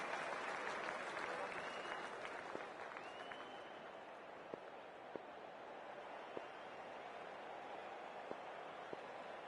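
A large stadium crowd at a Big Bash League cricket match between the Sydney Sixers and Brisbane Heat roars and applauds steadily as the players walk out, a dense wash of distant cheering with a few sharp claps standing out.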